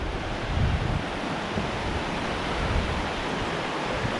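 A river rushes beneath a bridge built by the county forestry department on the North Country Trail near Wren Falls, giving a steady, loud broadband wash of flowing water with soft low rumbles and no voices.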